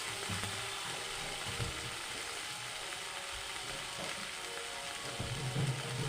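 Spices with a little Kashmiri chili sauté in a pan for a Bengali fish-head curry with green banana and potato, giving a soft, steady frying crackle with faint stirring scrapes.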